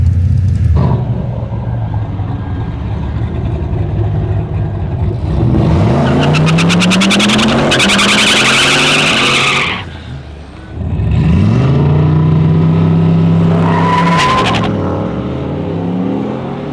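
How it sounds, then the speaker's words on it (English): Ute doing a burnout at the Hardass 1000 event, engine revving hard in rising and falling surges with roaring bursts and a brief drop in between, loud and close, no talking. "Daniel is going to go up again and really give it a crack this time"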